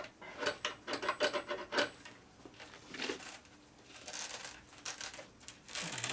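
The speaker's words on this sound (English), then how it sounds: "this is just Velcro" A Velcro strap on a motorcycle is pulled apart in several rough, ripping tears, each a short, raspy burst close by, with quieter rubbing and handling noises between them.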